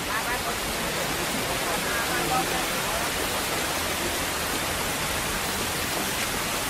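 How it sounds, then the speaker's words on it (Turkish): Steady rain falls in an even, continuous wash of hiss with no breaks, moderately loud and unchanging throughout. "fedana yağmur yağıyor"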